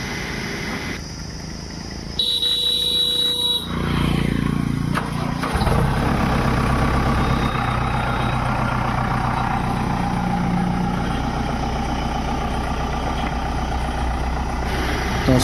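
A JCB engine, freshly given an oil change, starts up and settles into a loud, steady diesel idle with a continuous low rumble close by.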